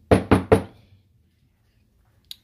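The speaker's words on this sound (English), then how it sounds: "Knock on wood, please." Three quick, sharp knocks on wood, loud and close in an even rhythm, followed by silence and one faint tick.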